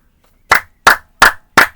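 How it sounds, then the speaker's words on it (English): Four sharp, evenly spaced hand claps ring out close and loud in quick succession after a brief silence. "I gotta clap that shit up."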